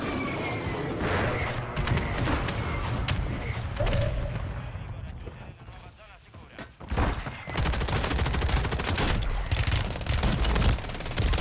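Gunfire in the shooter game Call of Duty: Warzone (Modern Warfare III season), with near, loud, dense bursts and volleys that run almost nonstop, a brief lull around the middle, and voices underneath.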